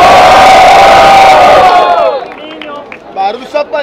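A loud crowd roars, cheers and shouts at a Brazilian rap battle, the Batalha do Coliseu in São Paulo. The roar is dense and continuous, then fades into a few scattered whoops and cries.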